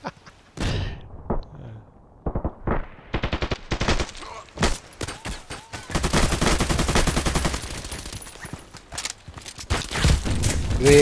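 Gunfire in the Contract Wars online shooter: scattered sharp shots at first, then sustained rapid bursts and overlapping volleys that build into a dense, loud firefight, with faint voices briefly underneath.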